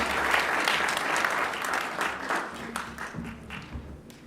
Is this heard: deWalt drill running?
no